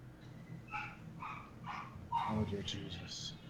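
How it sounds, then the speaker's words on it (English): Small dogs yip and bark in short bursts at a moderate distance while feeding is under way, with people talking over the noise throughout. "Sounds like you got a dog barking."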